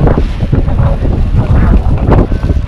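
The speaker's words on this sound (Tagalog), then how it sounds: "medyo malakas ang hangin" Strong wind buffets the microphone in a steady, heavy roar, with low rumbling gusts and water sloshing underneath throughout.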